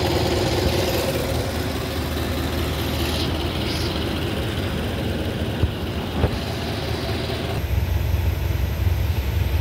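A 1931 Lincoln K V8 engine idles steadily at close range, a low, even rumble that carries on without talk for the whole stretch.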